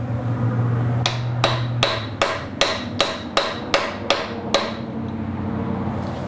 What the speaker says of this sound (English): just take a mallet and just very gently tap